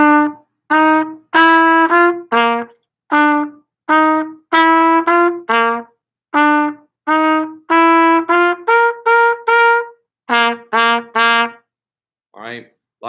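A short marching-band style riff, played as a string of clipped, separated notes in a bouncy rhythm, clear and close with brief silences between phrases and no talking.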